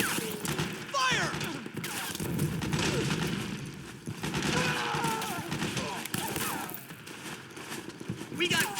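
Dense gunfire fills a battle scene in the video game Metal Gear Solid 4, a dense rattle of shots and thuds running continuously with voices shouting beneath the commotion.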